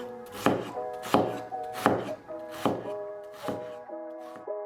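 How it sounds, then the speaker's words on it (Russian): Onion chopped into cubes with a knife on a board, about seven crisp, evenly spaced chops heard up close, with no talking. "Лук также нарезаем на кубики."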